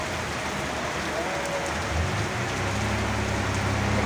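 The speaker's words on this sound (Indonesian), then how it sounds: "hujan semakin deras" Heavy rain drums on a bus travelling from Magetan, a dense steady hiss filling the whole clip with a low engine rumble underneath.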